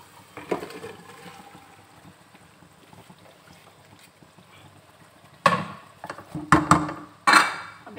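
Okra tipped into hot oil in a pan and stirred, a burst of sizzle and clattering utensil scrapes after a quiet stretch, close and uneven with several louder knocks.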